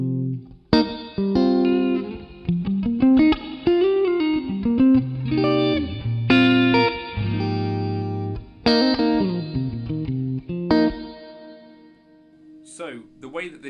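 An electric guitar plays through a Suhr Bella Reverb amp in 22 watt mode, with reverb set between 2 and 3: clean to lightly driven chords and single-note phrases ring out with sustain before fading, then a short burst of talking.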